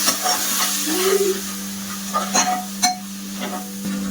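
Ground spices (coriander powder, turmeric, chili powder, masala and biryani masala) sautéing in ghee in a pressure cooker for soybean pulao: a steady close sizzle with a low hum underneath and a few clinks of a stirring spoon.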